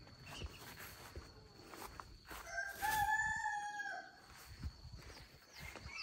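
A rooster crows once, a drawn-out call from mid-distance, while footsteps and light rustling nearby continue before and after it, with no voices.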